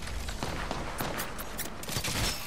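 Gunfire in the Apex Legends battle royale video game, rapid bursts of sharp shots crackling in quick succession at close range, fairly loud and continuous across the moment.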